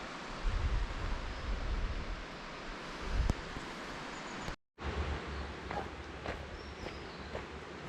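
Loud, steady rushing of flowing water close by near Devalsari temple, a dense continuous roar with a brief dropout midway and a few faint clicks over it.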